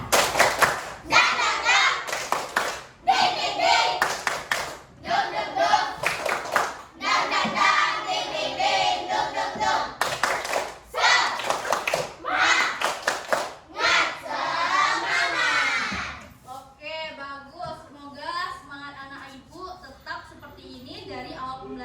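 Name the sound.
class of children doing a rhythmic 'tepuk semangat' clap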